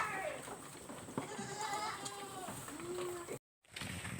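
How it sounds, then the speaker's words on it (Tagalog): Farm goats bleating close by, several wavering cries one after another, with people talking in Filipino over them and a brief dropout near the end. "Ayan po ang mga alaga po naming mga kambering."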